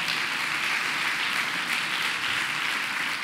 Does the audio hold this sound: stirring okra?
no